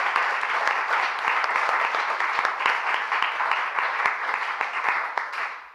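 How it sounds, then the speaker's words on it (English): Warm round of applause from an audience at a talk on spiritual paths to social justice, dense steady clapping with sharp individual claps standing out, sustained throughout and thinning at the very end. "Let's give our panelists a warm round of applause."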